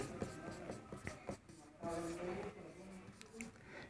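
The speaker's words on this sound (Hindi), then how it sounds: "तो यहाँ इसे लिखेंगे यूक्लिड विभाजन एल्गोरिदम।" Chalk or marker writing by hand on a board during a maths lesson, a run of short scratchy strokes and taps at close range, mixed with someone speaking.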